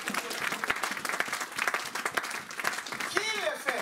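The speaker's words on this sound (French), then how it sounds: "Donnons une acclamation à chacun" Church congregation breaks into sustained applause, a dense wash of clapping with cheers and voices mixed in throughout.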